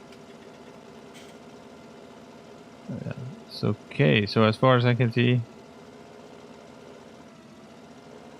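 A tractor engine idles in Farming Simulator 17 as a steady, low mechanical hum running the whole time, with a voice talking briefly over it in the middle.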